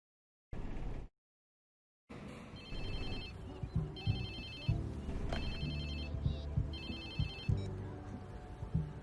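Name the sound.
phone ringing in video game Watch Dogs 2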